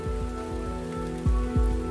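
Steady rain falls across the scene as a constant wash, with low thumping bumps and a few sweeping low tones passing through; no voices.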